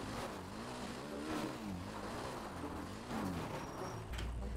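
A motorcycle engine in the GTA RP video game hums and revs steadily, its pitch rising and falling in smooth waves, close and continuous with no talk.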